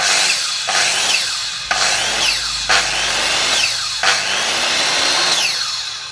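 An electric circular saw, a Japanese domestic-market 100 V model, runs loudly and steadily in repeated cutting passes of about a second each, with brief dips in between, and no talking.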